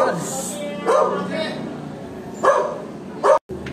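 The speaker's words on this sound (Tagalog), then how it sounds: "Nagagalit yung aso." A dog gives several angry barks, loud and close, in bursts spread across a few seconds.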